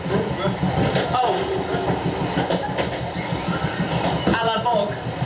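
An overnight passenger train bound for Hue in Vietnam rumbles along on its rails in a steady, loud cabin drone, with a faint clickety-clack, occasional squeals and knocks.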